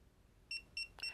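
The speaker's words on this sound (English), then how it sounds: "Now I'm going to hold down the back button until it beeps six times." A TST 507 series wide screen display unit gives three short, high electronic beeps in quick, even succession while its back button is held, faint and alone in a quiet room.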